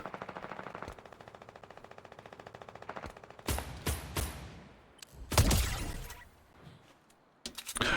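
Rapid automatic gunfire in the video game Fortnite, a steady rattling burst that gives way to several sharp, loud shots and impacts, with a bright crashing burst near the middle and more shots at the end.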